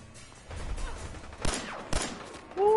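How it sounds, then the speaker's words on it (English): Bursts of gunfire in the Fallout 4 video game, with two sharp loud shots amid rattling fire and a bullet whizzing past, followed by a rising tonal sound at the end. "Fucking bullets are whizzing past my head."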